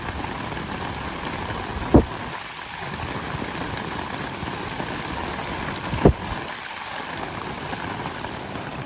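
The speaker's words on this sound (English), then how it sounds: "been raining for about 15 minutes now, and we've stayed pretty dry" Steady rain patters on a camping tent and tarp outdoors at night, a continuous close hiss with two sharp taps or thumps standing out, no talking.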